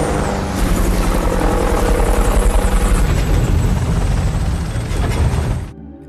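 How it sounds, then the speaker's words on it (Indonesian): A helicopter's rotor thuds steadily and loudly close by, a dense mechanical roar that cuts off near the end. "Helikopter akhirnya berhasil mendarat."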